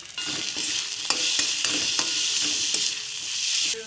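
Onions and spices frying in a pan for a kofta curry, a bright continuous sizzle punctuated by several sharp stirring scrapes, close and steady.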